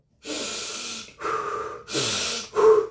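Deep breaths are taken to stay awake: three long, loud breathy inhalations and exhalations close to the microphone, with a final shorter, sharper breath.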